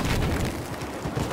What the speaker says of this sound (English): we're gonna shoot another rocket.